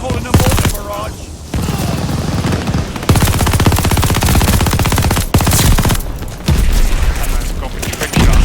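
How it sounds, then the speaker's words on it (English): Call of Duty Vanguard mortar barrage with dense gunfire: rapid machine-gun bursts and heavy booms rattle almost continuously at close range, loud throughout with a few brief gaps. "Allies calling a mortar barrage."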